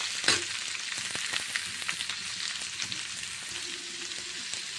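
Onions sautéing with salt in a pan, a soft continuous sizzle with light stirring scrapes and one sharper clatter at the start, close and moderately quiet.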